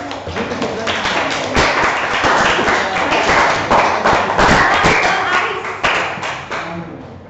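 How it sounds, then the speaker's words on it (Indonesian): Children in a classroom clap for a classmate, a dense, steady round of applause that carries on for several seconds at close range before tapering off at the end. "Tepuk tangan untuk Putris anak-anak"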